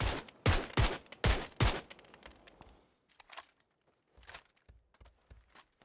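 Rapid bursts of gunfire ring out in the battle royale game PUBG, several loud close volleys followed by scattered fainter shots and pops, with no talk over them.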